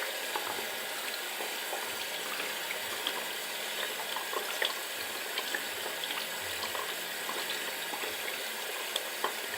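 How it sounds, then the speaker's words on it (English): Tap water running steadily into a sink during site cleaning, a quiet, even hiss with faint splashes, continuous and alone without voices. "The water is still running"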